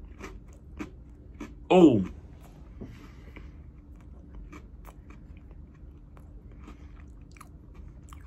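Someone takes a single crisp, crunchy bite of a strawberry frosted donut Oreo cookie, followed by faint, quiet chewing and a brief voice.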